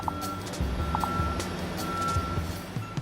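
A truck's reversing alarm sounds in a repeating series of evenly spaced tonal beeps over a low engine rumble, steady and moderately distant.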